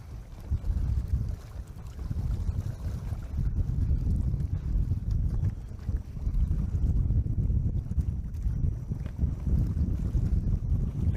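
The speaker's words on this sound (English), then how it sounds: "This wind is helping out a lot." Strong wind buffets the microphone on Lake Winnebago during a bass fishing tournament, a loud continuous low roar with gusting swells and no talk.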